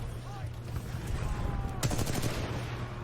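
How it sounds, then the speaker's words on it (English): An enemy turret fires in Titanfall 2 multiplayer, a rapid burst of gunfire at moderate distance under steady game ambience, with a voice speaking nearby. "That's somebody's turret."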